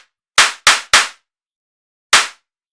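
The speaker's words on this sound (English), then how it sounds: "So cool sounding clap." Four punchy synthetic dubstep claps made in Serum ring out in isolation: three in quick succession, a pause, then a single final hit, each with a short decaying tail.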